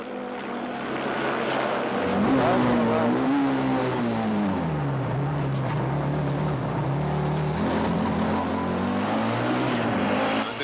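A rally car at full throttle on a stage of the 1994 Rallye Charlevoix, Michelin-sponsored, with a loud, close engine whose pitch rises and falls steadily through gear changes for about ten seconds.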